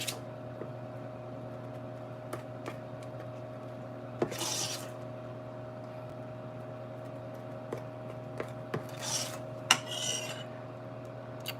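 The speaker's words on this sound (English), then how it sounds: "I have a mixer, but for me, the cake works, just hand mixing it." Cake batter stirred by hand in a bowl, faint scraping and clinking of utensil against the bowl with a few brief louder knocks over a steady low hum.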